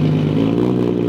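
A Nissan Skyline R34 engine runs with a loud, close, steady rumbling drone at a street car meet, holding a deep, even note throughout the short moment.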